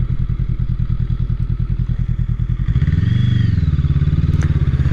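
Honda CMX 500 Rebel S motorcycle accelerating, its twin-cylinder exhaust pulsing in a rapid, loud, close-up throb that rises in pitch as the revs climb, with no talking.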